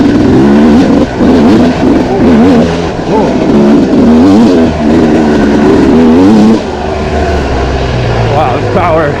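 A two-stroke Yamaha YZ dirt bike, a YZ125 or 1999 YZ250, revs and accelerates hard in a loud, continuous, buzzing wail that rises and falls close by.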